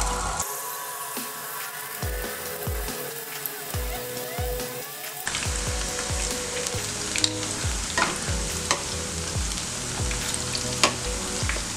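Pieces of baby corn chilli dropped one by one into hot oil for deep frying, each entry setting off a fresh burst of sizzling that builds to a steady, loud bubbling crackle with scattered spatters.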